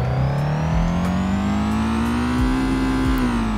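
Boxer-four sports car engine in a video game, idling and then slowly rising in pitch as it revs, steady and close with no talking.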